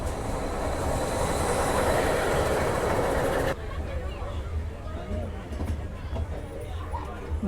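A passenger train on the Nanpara to Mailani rail line rolls along steadily and loudly for several seconds, then the dense rumble cuts abruptly to a quieter, lower rattle of wheels and carriages.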